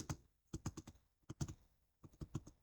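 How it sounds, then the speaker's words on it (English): Keystrokes on a computer keyboard while entering a word into a spreadsheet cell, heard as quick bursts of close, crisp clicks in three short clusters separated by brief pauses, with no talking. "we will click on cell A3 and then we will type categories"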